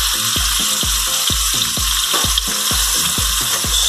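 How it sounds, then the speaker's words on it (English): Water hits a hot pan beside a burger topped with a pineapple ring under a cloche, giving a loud, steady sizzle and hiss of steam throughout, with no talking. "My little cloche. I'm going to add some water."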